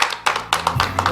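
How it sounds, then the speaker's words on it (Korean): A few distinct claps ring out at a year-end overseas Korean conference as thanks to a foundation chairman, close and fairly loud, with a brief hum beneath. "우리 김성근 이사장님께 좀 격려와 또 그리고 감사의 박수를 보내드리면 어떻겠습니까?"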